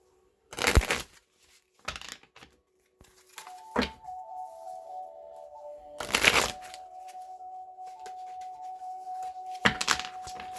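Wildwood Tarot cards shuffled by hand in bursts of riffling and slapping, a few separate rounds spaced across a quiet room, with a faint steady tone humming in the background.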